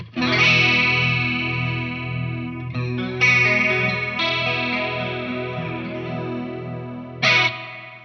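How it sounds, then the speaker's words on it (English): An electric guitar plays chords through a Line 6 HX chorus effect, with a shimmering, warbling, doubled tone and ringing sustain, heard alone. "And now here's with the chorus."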